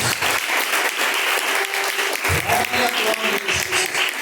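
A congregation at a live IPDA worship service claps together in a dense, sustained round of applause, with voices faintly underneath.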